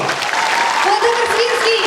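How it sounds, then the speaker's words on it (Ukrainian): Hall audience applauding at a Ukrainian charity auction event, dense steady clapping throughout, with a voice speaking over it. "Оплески всьому залу!"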